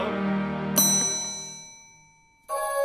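A bell is rung: one bright, sharp ding rings out and slowly fades, then a second strike lands near the end. Before the first strike there is a soft sustained tonal background.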